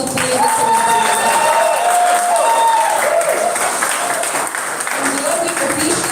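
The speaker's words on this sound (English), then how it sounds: "Can we give her a huge round of applause for pulling this off?" Audience at a Rotaract Club of Koramangala district official visit breaks into loud applause and cheering, a dense crowd roar with whistle-like shouts that holds steady for about six seconds.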